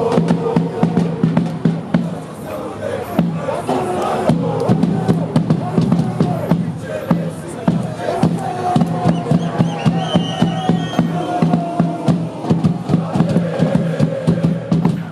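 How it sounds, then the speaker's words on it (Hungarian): Football ultras march to an arena in Cluj, chanting loudly in unison over steady, rhythmic drumbeats, a dense crowd roar filling the whole stretch. "dobszó kíséretében skandálva érkeztek a helyszínre"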